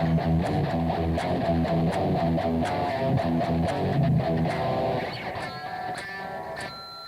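A First Act electric guitar plays a quick, repeating picked riff with distinct short notes, then eases into a softer, thinner passage, heard alone and fairly quiet.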